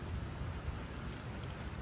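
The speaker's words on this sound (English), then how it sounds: "Coming in out of the Gulf, all that warm Gulf air coming up here and dropping all of its humidity and rain on us." Rain from a thunderstorm fed by warm Gulf air, a dense, steady patter of falling drops heard close and evenly with no break.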